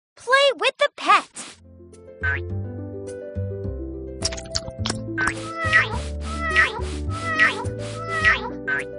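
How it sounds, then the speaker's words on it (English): Several short, bright cat meows come from a toddler puzzle game, set over a playful tune of plucked and bouncing notes. "Munchkin cat. Kitten."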